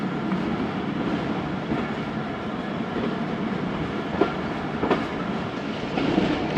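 Passenger train on the Jaffar Express line from Peshawar Cantt to Lahore in Pakistan, rolling steadily with constant rumbling wheel noise and a few sharp clicks of rail joints near the end, no talk.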